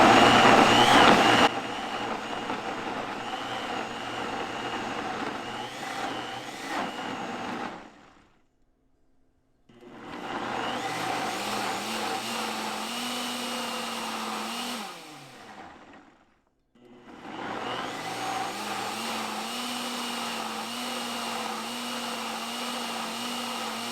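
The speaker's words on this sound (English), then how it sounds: "So see what the blender does when it's extracted? It does its own sequence of stuff." A blender runs its extract cycle while making dairy-free milk, a loud motor whine that surges, drops to near silence twice, then restarts with shifting pitch as the programmed sequence cycles.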